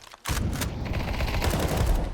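Rapid automatic gunfire spray in the Counter-Strike video game, a dense continuous burst that starts abruptly and runs loud and close to the end, with no talking.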